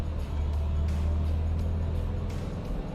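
A 2012 Mitsubishi Triton 2.4 Plus four-door pickup running on petrol and LPG with a manual gearbox, its engine droning steadily and fairly loud from inside the cab, with no distinct gear change standing out.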